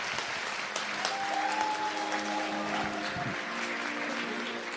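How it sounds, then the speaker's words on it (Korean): Audience at a live public broadcast applauding, a dense steady clapping of a crowd throughout, with faint voices and tones underneath. "두 분 박수 부탁드리고요"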